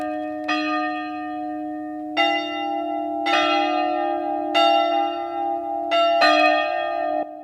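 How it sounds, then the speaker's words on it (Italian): Church bells of the small Carmine chapel in Rai di San Polo di Piave ring out in a slow series of bright, resonant strikes, each tone hanging and overlapping the next, loud and clear with no voices. "Rintoccano le campane della chiesetta del Carmine a Rai di San Polo di Piave."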